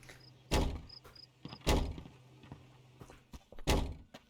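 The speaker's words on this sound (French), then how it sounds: "Oui, moi j'aime bien fermer les portes." Heavy doors being shut in the game Contraband Police: three loud thunking slams spaced about a second apart, with smaller clunks and knocks between them, close and without speech.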